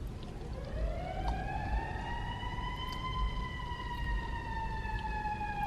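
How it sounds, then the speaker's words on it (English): A wailing emergency siren passing outside, rising then holding a long steady tone, moderately distant over low street rumble. "sorry, there's a siren. I should probably wait until that passes"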